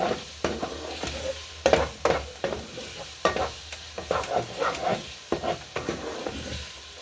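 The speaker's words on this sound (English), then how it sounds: "And I'm getting it all stirred up good" Hamburger meat with minced onion and garlic stirred and frying in a pan, a steady sizzle under repeated scraping strokes of a spoon, close and fairly loud with no talking.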